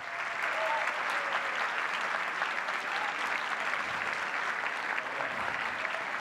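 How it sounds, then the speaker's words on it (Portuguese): An audience at a liberty and democracy forum panel applauds young candidates, a dense, even wash of clapping that holds steady throughout without talk over it. "Levanta aí todos os jovens que são candidatos para a gente bater uma salva de palmas para vocês."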